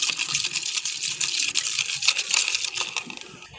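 Shikakai powder being stirred into water by hand, a steady run of bright, gritty swishing and sloshing with small clicking taps, close and continuous, with no talk.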